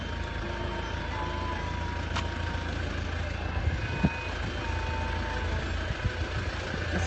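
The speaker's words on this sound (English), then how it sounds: "I'm going to wait for a truck to go by" A truck passing through the narrow old-city streets of Jerusalem near the Roman Cardo, a steady low engine rumble with faint intermittent beeps and a few clunks, heard continuously at moderate loudness.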